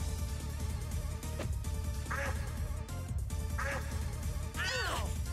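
Crows in the Shin Megami Tensei: Persona video game let out a few duck-like quacks over loud continuous background music, three or so nasal calls spaced a second or two apart.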